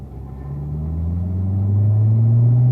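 Race cars pulling away on a track, a loud close engine rumble rising steadily in pitch as they accelerate through the low gears, with no voices.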